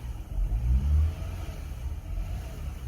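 A car engine with a surging idle, its RPM hunting between low and high, gives a close, low rumble that swells briefly and then settles back.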